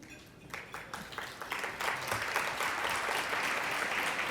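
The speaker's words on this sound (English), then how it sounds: "I thank you for giving them a round of applause that they so deserve" An audience at an awards gala claps for standing regional office representatives, starting with scattered individual claps that swell into full, sustained applause.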